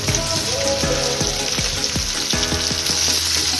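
Stuffed okra (masala-filled ladyfingers) sizzles steadily in a pan, a dense close frying hiss broken by soft repeated scraping and clinks as the pods are gently turned; no one speaks.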